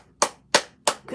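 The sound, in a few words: applause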